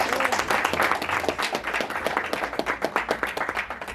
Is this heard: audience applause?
yes